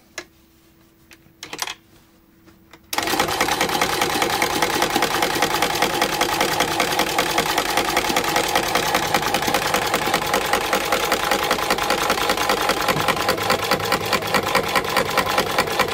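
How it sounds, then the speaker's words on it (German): A Singer M100 Magic Taylor sewing machine stitching a test seam, starting after a few quiet seconds with small handling clicks, then a loud, fast, steady mechanical rattle that runs continuously to the end. "In diesem Wunderwerk der Technik werden wir jetzt mal eine erste Probenaht machen."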